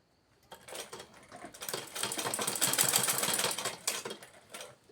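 A sewing machine stitches a carefully folded hem on a garment's leg section, running in a steady, fairly loud whir for about four seconds with brief pauses, no voices.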